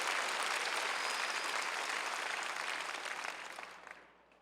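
A crowd applauds at an outdoor prayer rally for peaceful reunification in a plaza in Seoul, a dense, steady wash of clapping that fades away over the last second or so.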